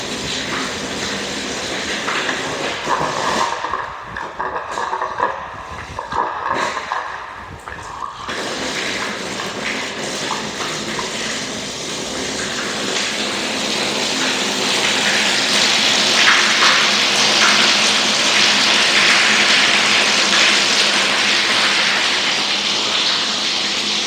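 Water gushes into a homestead water tank as a continuous broadband rush that steadies and then grows louder and fuller partway through, with no talking.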